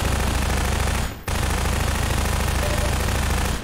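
Rapid automatic fire from a captured enemy gun in Half-Life 2, loud and close, a continuous rattling burst that cuts out briefly near the start and then resumes without a pause.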